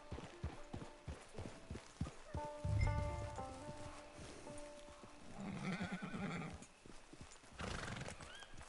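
A horse in the Red Dead Online video game, with clip-clop hoofbeats near at hand, a neigh or whinny partway through and a soft patter like rain behind it.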